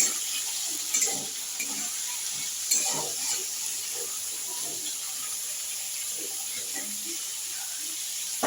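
Vegetables fry in a pan with a steady, close sizzle, broken now and then by the soft scrape and clack of stirring.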